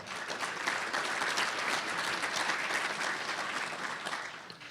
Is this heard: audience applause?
yes